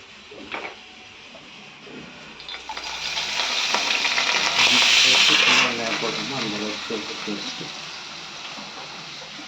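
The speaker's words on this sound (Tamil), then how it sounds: "நறுக்கி வச்சுருக்கிற ஆனியனை நம்ம ஆயிலில் போட்டு ஃப்ரை பண்ண போகிறோம்" Onions sizzle and crackle steadily in hot oil for mutton kuzhambu, the frying hiss swelling louder midway as they are stirred, with a voice talking over it.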